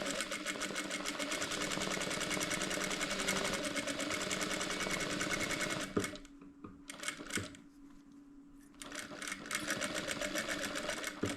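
A sewing machine stitches fabric for a small floral pouch in rapid, close, steady runs, pauses briefly, then makes short back-and-forth backstitching bursts before running on.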